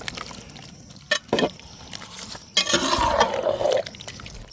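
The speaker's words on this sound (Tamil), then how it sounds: "இப்படி மீதி இருக்கிற மசாலாவை தண்ணி ஊற்றி அப்படியே கலக்கி இதையும் சேர்த்துக்கிறேன்." Water poured into leftover curry masala for a chicken curry, a few short splashy pours followed by a longer, fuller stream of liquid, close by with no talking.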